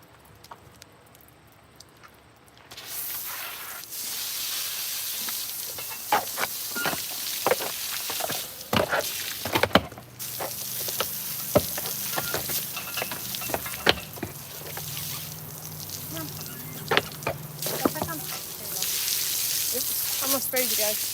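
A hose sprays water at an outdoor wash rack: a sudden steady hiss starts a few seconds in and continues throughout, close and loud, with scattered knocks and splashes.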